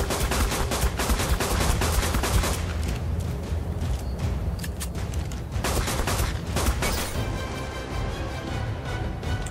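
A player fires guns in ARK: Survival Evolved, producing loud, dense bursts of rapid shots that continue with only brief lulls.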